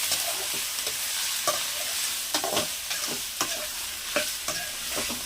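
Washed chicken pieces sizzle and fry in a pan while being stirred, a steady hiss broken by repeated clacks and scrapes of a utensil, close and fairly loud with no voices.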